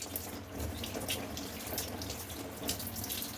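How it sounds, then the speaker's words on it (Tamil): Tap water runs steadily into a sink while tuna fish is washed, a continuous close splashing flow with light irregular spatters and no voices. "லைட்டாக வாஷ் பண்ணும்."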